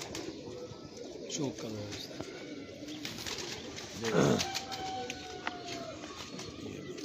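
A man's rooftop pigeons coo softly in the background, with a few low rolling calls standing out, while people talk nearby over them.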